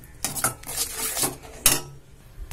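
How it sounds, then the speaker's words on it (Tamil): A spoon stirs sautéed vegetables in a pan for white sauce macaroni, giving a few close metallic clanks and scrapes against the pan in short bursts, with no talking. "இதையும் சேர்த்துட்டு ஒரு 1 மினிட்க்கு நல்லா மிக்ஸ் பண்ணி விட்டு குக் பண்ணிருங்க"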